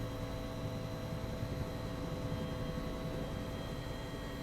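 Steady engine and rotor drone of a helicopter in the X-Plane 11 flight simulator, flying near Washington DC, a constant loud wash of noise with no breaks and no voices.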